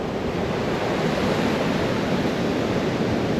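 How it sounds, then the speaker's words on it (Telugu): Ocean waves breaking on a beach in northern Scotland, a steady, loud wash of surf with wind noise and no voices. "ఇదంతా అలలు నీళ్ళు చూడండి అలలు ఎన్నో వస్తున్నాయి చూడండి"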